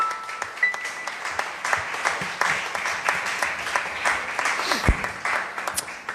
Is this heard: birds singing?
no